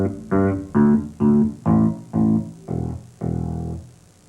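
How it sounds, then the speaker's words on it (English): Seven bass guitar notes plucked near the bridge, hard and biting, each a distinct separate stroke with clear gaps, the last held longer, played alone with no voices. "At the back, you get a hard, biting tone, like this."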